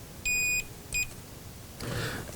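A continuity tester on an arcade game circuit board gives two clean electronic beeps, one longer, one short, close and clear, followed by a brief rustle of probe handling.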